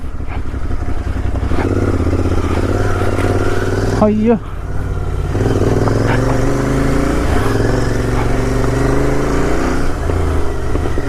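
A Royal Enfield Interceptor 650 motorcycle rides over rough off-road ground, its steady engine drone loud and close throughout, with a brief revving surge partway through and a man exclaiming over it.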